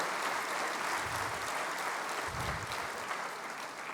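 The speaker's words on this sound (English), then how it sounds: "Let's give him a big round of applause." Audience at the IIMB alumni event applauding for the director's birthday, sustained dense clapping that fills the hall evenly and eases slightly near the end.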